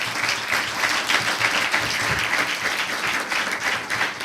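A church congregation applauding in praise of the Lord, with dense, continuous clapping from many hands at a steady, fairly loud level and no talking over it.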